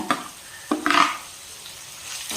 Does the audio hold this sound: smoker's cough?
no